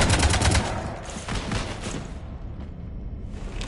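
Dense, rapid gunfire from the video game Mass Effect Legendary Edition 3, loud bursts of automatic shooting that thin out into a lingering rumble, with no talk over it.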